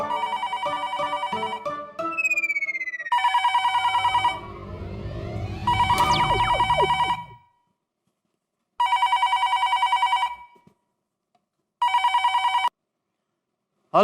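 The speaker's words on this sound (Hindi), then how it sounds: "साढ़े 12 बज रहे हैं, इतनी रात को कौन फोन कर रहा है?" Late-night telephone rings in loud repeated bursts with gaps between them, interrupted by a rising swoop and a cluttered burst of sound before the later rings.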